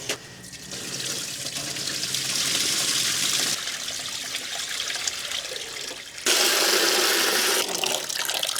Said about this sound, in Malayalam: നമുക്ക് വെള്ളം ഊറ്റിക്കളയും